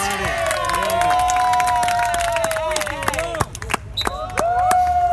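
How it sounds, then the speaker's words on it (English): A large crowd cheers and applauds with shouts rising over steady clapping at a beach volleyball match, loud and continuous throughout, with a few sharp whistles and cries near the end. "Well-deserved round of applause."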